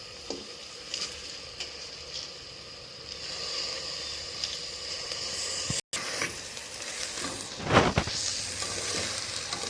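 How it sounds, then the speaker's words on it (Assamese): Rice being slowly stirred as it fries in a pan with vegetables for Assamese pulao, a soft continuous sizzle with gentle scraping and a louder rustle of the spoon near the end. "অকণমান লাহে লাহে চাউলটো লৰাই দিছোঁ"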